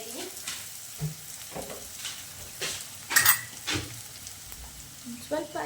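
Onion fries in a pan with a soft continuous sizzle while a spoon scrapes and stirs in repeated short strokes, close and moderately quiet.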